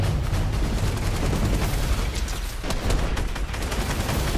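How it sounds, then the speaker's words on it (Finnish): Dense, continuous gunfire and explosive bursts from a Fortnite match, including RPG fire. The sound is loud and close and runs without pause through the whole stretch, with no talk over it. "toi ampuu meitä RPGllä."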